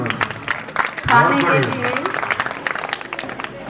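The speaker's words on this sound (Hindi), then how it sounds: "तालियां बजाइए।" Audience clapping at a school principal's retirement function, a burst of applause rising after about a second and continuing steadily beneath a speaker's voice over a PA.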